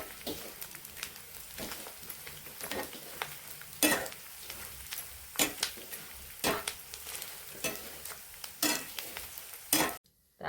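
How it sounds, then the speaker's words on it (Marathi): Edible gum (dink) frying in oil over a low flame, a quiet, steady sizzle broken by intermittent sharp spatula clicks and scrapes against the pan. Close, with no talking. "तर अशा प्रकारे आपल्याला डिंक तळून घ्यायचा आहे."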